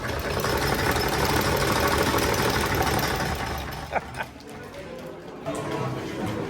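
An old Raffles Sling Shaker cocktail machine runs with a steady, loud mechanical churning and knocking like an idling engine, easing off partway through with a few sharp clanks near the end.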